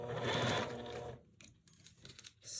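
Domestic sewing machine stitching slowly across a Tula Pink butterfly quilt block, a steady whirring hum for about a second, then stopping, followed by faint handling and fabric sounds and a brief restart at the end.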